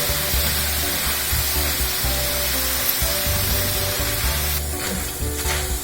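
Corn tortillas fry in hot oil, giving a steady, dense, close sizzle that stays loud and even throughout, with no voices.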